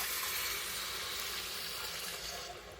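Water with dissolved instant coffee is poured into a pressure cooker, a steady close splashing gush that tapers off near the end, with no voices.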